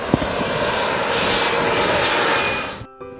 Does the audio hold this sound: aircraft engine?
yes